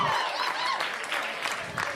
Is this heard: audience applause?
yes